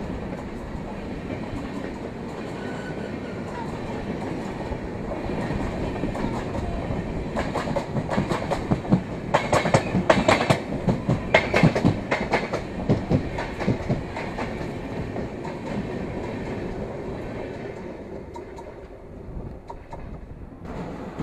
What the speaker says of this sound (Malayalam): താനൂർ റെയിൽവേ സ്റ്റേഷനിൽ നമുക്കുള്ള ട്രെയിൻ ഇപ്പോൾ വളരെ സ്ലോ ആയിട്ട് തന്നെ കയറുന്നുണ്ട്